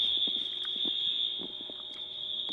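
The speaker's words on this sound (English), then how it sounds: "that sounds like a fire alarm" A fire alarm sounds from a nearby apartment building, a steady, loud, high electronic tone that holds throughout with faint background noise beneath it.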